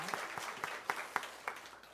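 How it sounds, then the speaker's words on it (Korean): A church congregation at a Sunday worship service applauds, a faint patter of claps with several sharper hand strikes standing out over a brief burst. "우리 박수 한번 쳐드리겠습니다."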